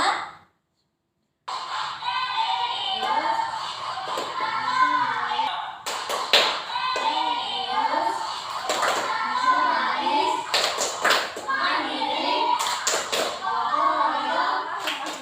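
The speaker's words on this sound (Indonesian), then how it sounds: "Selanjutnya tepuk PPK ya." A primary school class chants the rhythmic 'tepuk PPK' routine, children's voices singing in cadence while sharp clusters of hand claps land at intervals, after a brief silent gap at the start.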